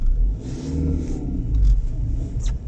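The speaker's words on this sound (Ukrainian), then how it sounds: "Перша передача. Е, максимальна тяга з місця." A 2012 Geely Emgrand EC7 with a 1.8 petrol engine accelerates hard from a standstill in first gear, giving a loud, close, deep engine rumble that rises and surges with revs.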